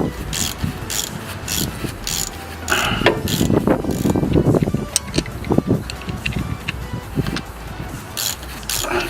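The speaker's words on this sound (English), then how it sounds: "While you're loosening the bolt, as you can see in the gap, just keep spinning." Wrench ratcheting while loosening a brake caliper bolt on a 2005 Ford Expedition during front brake pad and rotor replacement, a steady run of fast close clicks with a louder stretch in the middle.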